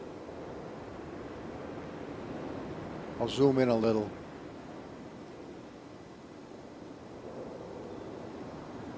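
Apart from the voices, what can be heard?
water falling into crevices in the video game Riven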